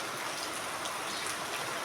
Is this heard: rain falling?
yes